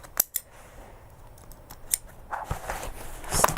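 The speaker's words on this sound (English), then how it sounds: "I just need to finish trimming my threads" Scissors trim loose threads on a sewn backpack, giving a few sharp crisp snips spaced irregularly, close and clear against a quiet room.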